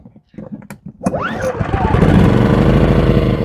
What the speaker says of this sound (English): So you just flip it down to choke First time you want to crank it, and then you pull this pull start.